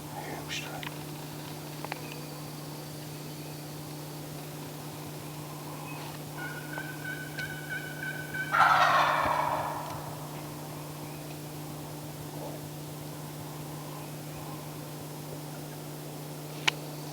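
Wild turkey gobbling during a hunt outdoors, one brief distant gobble rising out of faint background hiss, with quiet whispering around it.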